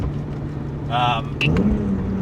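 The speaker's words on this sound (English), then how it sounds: "as you guys can hear right now, just a couple of cruising downshifts, the S54 sounds fantastic" A modified E46 BMW M3's S54 engine blips through quick downshifts while cruising, the aftermarket exhaust rising briefly in pitch, with a steady road drone underneath.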